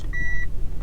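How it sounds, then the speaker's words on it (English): Seatbelt warning alarm in a Nissan Elgrand E51, a single clear electronic beep of about a third of a second, loud and close over the low rumble of the idling van. "Ah, seatbelt alarm."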